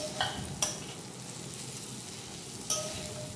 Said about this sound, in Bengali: আলুটা মশলার সাথে সুন্দর করে নেড়ে চেড়ে ভেজে নিচ্ছি ভালো মতো